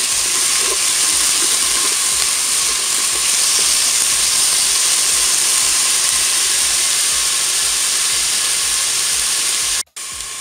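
Frozen onions sizzle loudly in hot oil in a Cookeo multicooker, a dense steady hiss that continues unbroken before cutting out abruptly near the end.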